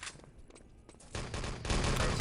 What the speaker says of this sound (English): As there's the MG getting put to use.